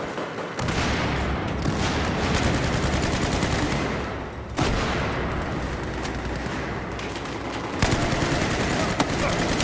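Dense, continuous gunfire from Battlefield 4, a rush match on Operation Locker, with rapid automatic bursts and heavy booms filling the whole stretch at close range and someone talking over the battle.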